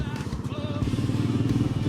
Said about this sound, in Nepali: बाइक क्रस गर्दैछ बाइक